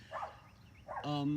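A dog barks outdoors near a farm's Halloween display, giving two or three short barks close by, with a voice speaking over the last one.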